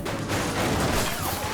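Rapid gunfire in a police-chase video game, shots aimed at a suspect vehicle, forming a dense continuous barrage at steady loudness for the whole stretch.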